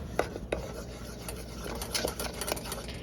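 A homemade play dough mixture being stirred in a pot, with soft scraping and rubbing strokes, a few sharper clinks of the spoon against the pot, fairly quiet and close throughout.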